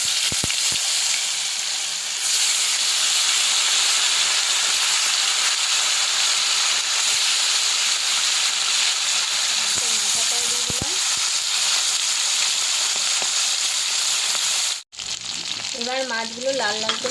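Catfish pieces frying in hot mustard oil in a wok, giving a loud, steady sizzle and hiss that runs almost unbroken, with a brief dropout near the end and a faint voice afterwards.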